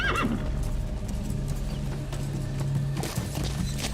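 A horse in Metal Gear Solid V whinnies near the start, followed by the clip-clop of hooves and game ambience, fairly loud and close, with a brief rustling burst near the end.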